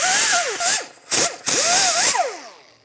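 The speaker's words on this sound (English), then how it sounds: "Using a wire wheel, we're going to clean the hub." A power-driven wire wheel scours rust off a Subaru Outback brake hub, a loud, close, gritty whir rising and falling in pitch as it bites and lifts in short passes, with no one speaking.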